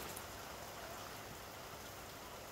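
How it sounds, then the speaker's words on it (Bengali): Rain falls as a steady, even hiss of drops on surfaces, quiet and unbroken throughout with no voices. "দেখুন বন্ধুরা, আমাদের এখানে বৃষ্টি হইতেছে খুব সুন্দর।"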